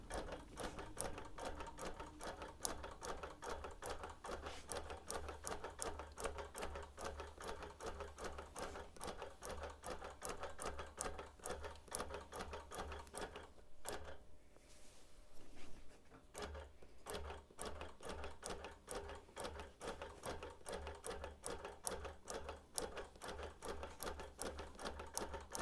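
Close sewing machine basting a hexie quilt, fast regular stitching clatter that pauses briefly midway, then resumes at the same even rhythm, fairly quiet, with no talking.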